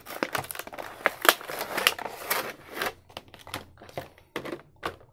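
Plastic acetate packaging crinkles and crackles up close in irregular bursts as a doll is worked free of it.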